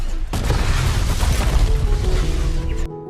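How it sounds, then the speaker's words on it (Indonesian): Gypsy Danger robot exploding in the film Pacific Rim, a heavy, deep rumbling blast that starts abruptly and roars with crackling debris for nearly three seconds before cutting off into a thin residual tone. "Dan akhirnya Gypsy Danger pun meledak dan menghancurkan portal."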